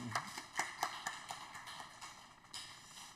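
A church congregation claps in welcome during a Sunday worship service, a faint, loosely spaced patter of individual claps with a few sharper hits, distant and sparse rather than a full ovation.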